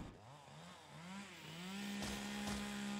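A hedge trimmer weapon in the video game Dead Frontier 2 whines with a motorised buzz that rises in short wavering pulses, then settles into a sustained, louder high drone.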